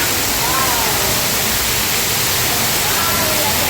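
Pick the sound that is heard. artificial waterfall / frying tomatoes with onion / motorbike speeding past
artificial waterfall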